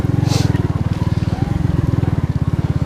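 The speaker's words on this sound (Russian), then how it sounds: "Мопед прыгает потихоньку" Alpha enduro moped engine puttering steadily at close range while riding over bumpy, hummocky swamp terrain on a wilderness trip to a lake, its rapid low firing pulses continuous throughout with slight jolts.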